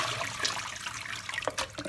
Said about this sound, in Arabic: بحط عليها المي باردة عشان اسحب من السخونة تاعتهن